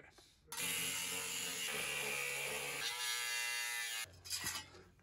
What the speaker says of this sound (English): I'm getting the angle grinder.